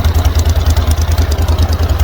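A small airboat engine runs close by at a steady idle, giving a loud, rapid, even pulsing chug with a faint rattle and no voices.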